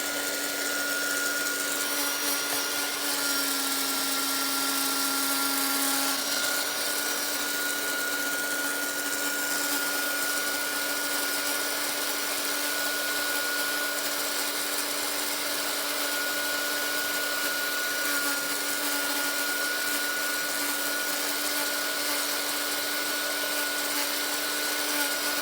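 A handheld heat tool blows steadily over junk journal craft work, a constant whirring hiss that runs without a break for the whole stretch.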